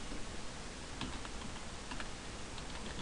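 Soft, quiet keyboard typing with scattered light keystrokes, heard faintly under a steady hiss of background noise.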